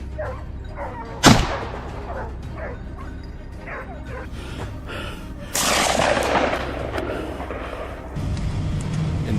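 A single sharp rifle shot cracks out loud during a night wild boar hunt, standing out among repeated dog barks, yips and whimpers, followed by rustling and broadband noise.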